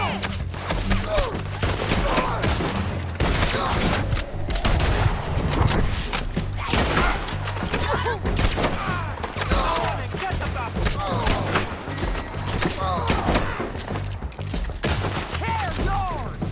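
Rapid fusillades of gunfire from a Red Dead Redemption 2 shootout near a bridge and ridge, dense overlapping shots crackling continuously for the whole stretch, with shouted voices mixed in.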